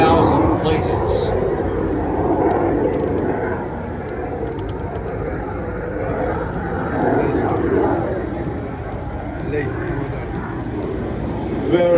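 A fire bomber aircraft makes a slow approach at an airshow at Scone airport. The engines give a loud, continuous drone that swells and eases, and someone talks over the engine noise.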